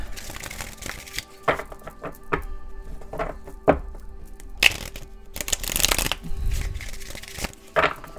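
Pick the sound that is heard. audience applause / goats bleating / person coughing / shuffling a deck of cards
shuffling a deck of cards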